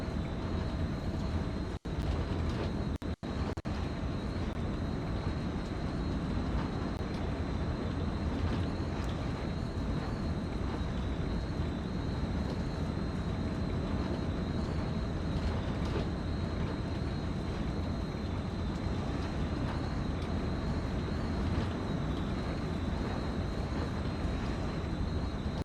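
Steady rattle and rushing wind inside a train cab in a train-driving video game on the Peninsula Corridor, a continuous even roar that runs unbroken at constant loudness, with no voice over it.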